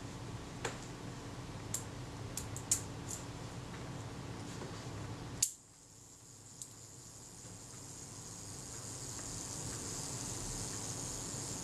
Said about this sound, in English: We'll try the self timer.